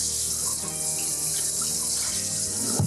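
Tap water runs steadily into a sink while goldenrod-dyed wool yarn is rinsed, a constant close gush with faint splashing and no voices.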